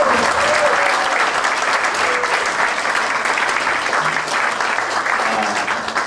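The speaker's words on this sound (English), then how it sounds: "let's give them a round of applause" Wedding guests give a sustained round of applause honoring the couple's parents, loud dense clapping from a full room that holds steady throughout with faint voices mixed in.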